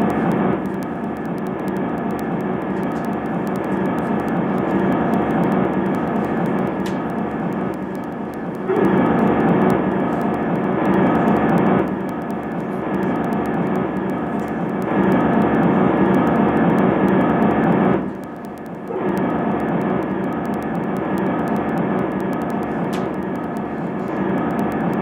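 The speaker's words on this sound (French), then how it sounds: "C'est le souffle que le micro a enregistré." Wind recorded by the Huygens probe microphone while descending to Titan: a dense, steady roaring hiss with a few louder gust surges and sudden drops, continuous and loud with no other sounds.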